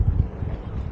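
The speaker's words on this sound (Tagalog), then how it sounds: "Mahangin." Wind buffets a microphone at Abraham Lake, a low, rumbling gusty roar throughout the short moment with no voices.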